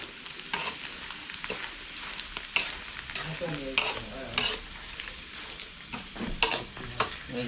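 Shallots fry in hot oil with a continuous sizzle while they are stirred, and a utensil scrapes and clinks against the pan at irregular moments, close and clear with almost no talk.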